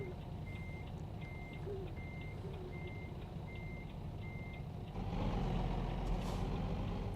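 A reversing alarm on a 53-foot tractor-trailer beeps steadily about seven times over a low idling diesel engine in American Truck Simulator, the engine swelling louder near the end.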